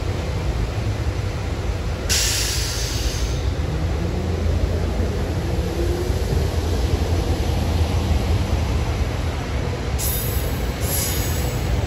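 Commuter train 9593, a push-pull consist bound for Thorndale, approaches with a loud, steady rolling rumble. A faint wheel squeal slides across the middle, and short hissing bursts come at the start and near the end.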